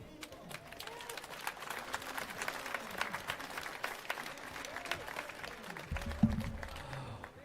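A crowd at an outdoor Alberta independence rally applauds, with dense, steady clapping at moderate distance that swells slightly toward the end, plus faint voices in the mix.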